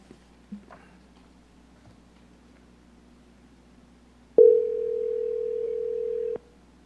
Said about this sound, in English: I'm going to try to call you back.